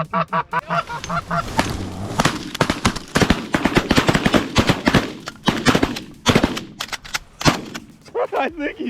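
Shotguns fire repeatedly at low-flying Canada geese during a Missouri goose hunt, a rapid volley of loud, close blasts mixed with honking geese, which continue calling between shots.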